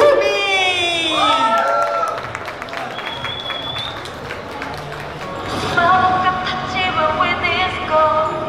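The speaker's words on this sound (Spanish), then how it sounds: "vamos a darle un fuerte aplauso" Audience at a talent show applauding and cheering for a performer, a rising mix of claps, whistles and shouts under a voice, swelling louder toward the end.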